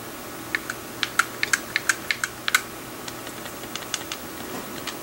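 Close, crisp keystrokes on a computer keyboard, a quick burst of clustered clicks followed by a few sparser taps, over a low steady room hum, with no talking.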